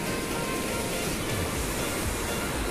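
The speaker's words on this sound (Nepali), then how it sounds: "यो खरे खोला हो" The Khare stream after rain in the Jaldhaka area near the India–Bhutan border, a steady, loud rush of flowing water that fills the whole clip and carries no voices.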